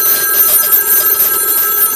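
A central office line sends its ring cycle to a telephone plugged into an analyzer, and the bell rings loudly and continuously, with a dense, buzzing metallic jangle filling the whole stretch.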